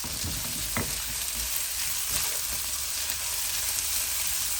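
Ginger, garlic and chili paste frying in a pot for a Fiji-style chicken curry, a loud, steady hiss of sizzling oil with a few brief stirring knocks early on.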